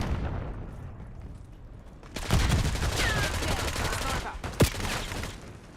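Sniper gunfire in Black Ops 6, heard as dense crackling shots and game effects over a noisy bed, with one sharp loud crack standing out near the end.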